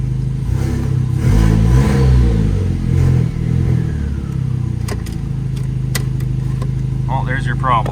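A 1.8T car engine revs loudly up close, its pitch swooping up and down before settling into a steady idle, with a few clicks and a brief voice near the end.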